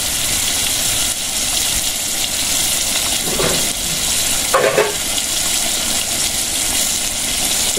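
Steady, broadband sizzle of chicken frying in a pan, continuous throughout with a couple of brief louder bursts partway through, no voices.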